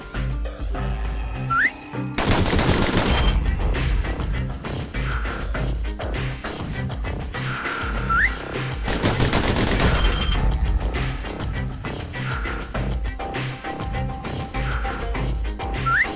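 Pistol gunfire in the video game Bastion: rapid bursts of shots over a busy game soundtrack, with louder dense volleys around two and nine seconds and whistling effects between.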